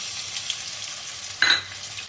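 Prawns coated in salt and turmeric frying in a pan with five-spice seeds, a low steady sizzle close up, with one brief louder hiss and scrape partway through.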